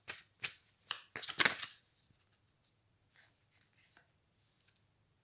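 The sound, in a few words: shuffling cards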